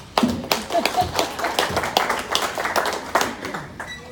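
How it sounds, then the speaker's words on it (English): A small audience claps after a nutrition presentation, a sparse, uneven patter of individual hand claps close by, with some faint voices mixed in. "let's give them their applause"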